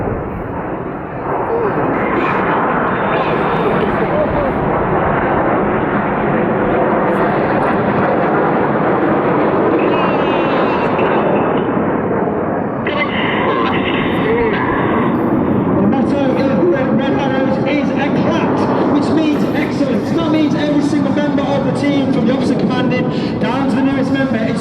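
Red Arrows jet aircraft fly a rollback manoeuvre at an air display at Portsoy, a loud, continuous roaring engine rumble that swells as the jets pass, under a commentator's amplified voice.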